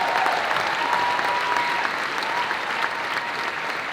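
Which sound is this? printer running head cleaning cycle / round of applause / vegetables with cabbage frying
round of applause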